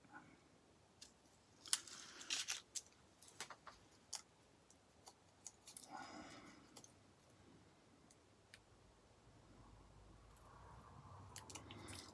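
Scissors cut paper pieces for ATC cards up close, giving faint, irregular snips and crisp little paper rustles over a quiet room with no talking.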